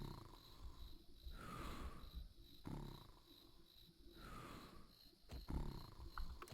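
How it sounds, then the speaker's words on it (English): Slow, steady snoring from the video game Viva Piñata: Pocket Paradise, rising and falling breaths repeating in a regular cycle over a faint insect-like background hum, with no talking. "You just spent the whole game hearing this snoring sound 24/7."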